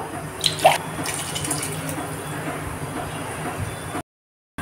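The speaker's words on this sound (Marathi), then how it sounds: "आणखीन थोडंसं पाणी घालूया।" Water splashes and runs steadily into a pan of pav bhaji vegetables for about four seconds, a continuous pouring wash with a brief louder splash near the start.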